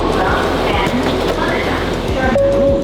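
A Japanese train rolls along with a loud, rhythmic clickety-clack of wheels over rail joints and a brief rising whine, close by, while people talk over it.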